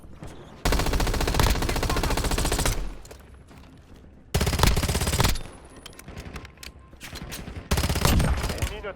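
Bursts of automatic gunfire in the Warzone video game, loud sustained volleys of rapid shots separated by short pauses, with a brief game voice line in between.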